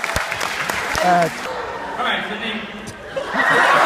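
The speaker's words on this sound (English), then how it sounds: "Y'all give her a huge round of applause." Audience applause and scattered chuckles from a live stage show crowd, rising and falling under someone talking close to the microphone, with a brief clatter of clapping swelling again near the end.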